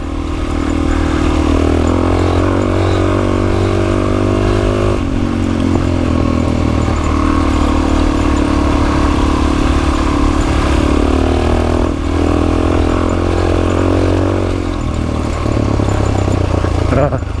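Off-road motorcycle riding a rocky trail, a loud continuous engine drone with shifting revs and clattering over rough ground, close and dominant throughout.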